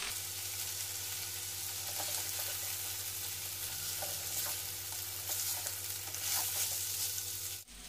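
Ingredients for fried rice sizzle steadily in a pan over a medium flame, a dense continuous frying hiss with a low burner hum beneath and faint stirring scrapes, close and even throughout.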